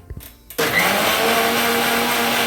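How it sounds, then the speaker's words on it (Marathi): After a few brief knocks, a mixer grinder starts abruptly and whirs loudly and steadily, a high-pitched motor drone that holds to the end. "आपल्याला हे फिरवायचं आहे मिक्सरमध्ये"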